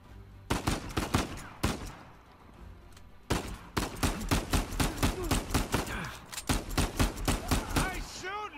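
Gunfire in Uncharted 4: A Thief's End, repeated sharp broadband shots in bursts across the clip, loud and close, with a short lull partway, mixed under character voices talking.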